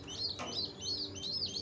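Small caged birds chirp repeatedly in a rhythmic series of bright tweets, moderately faint and distant amid steady outdoor background noise at a lowland strawberry farm.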